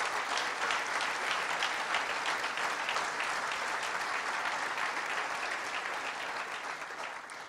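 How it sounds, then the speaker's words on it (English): Audience applause for students at a program event, a dense, even wash of clapping that holds steady and tapers off gently toward the end. "Let's just give our students a great big round of applause."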